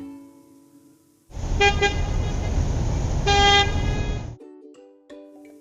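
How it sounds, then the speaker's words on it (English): A loud, sustained car horn blares for about three seconds, alone and close by, with a brief swell near the end before cutting off. "It is a sound of a beeping car."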